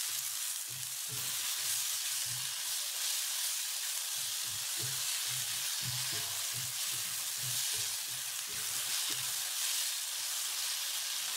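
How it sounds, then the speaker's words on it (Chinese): Loofah, onion and tomato stir-fry in hot oil in a wok, with a steady close sizzle and hiss running throughout and the soft repeated scrape and clatter of stirring underneath. "放丝瓜、洋葱、番茄翻炒一分钟"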